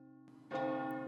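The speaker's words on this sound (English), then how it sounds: "he hears the church bells ring-a-ding-ding" Church bells ring and clang in a Home Alone game. A low sustained tone is followed by a louder, brighter peal that swells and holds. No one speaks.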